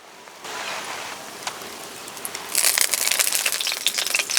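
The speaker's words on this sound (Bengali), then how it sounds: "গোটা মশলাগুলো একটু ভেজে নিলাম। সাদা তেল," Whole spices fry in hot white oil, starting as a soft hiss that turns into a brighter, crackling sizzle partway through and then carries on close and steady. No one speaks.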